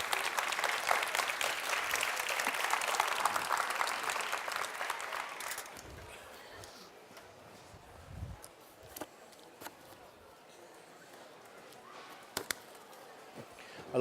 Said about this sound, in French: On peut l'applaudir quand même déjà très fort pour ce magnifique gâteau.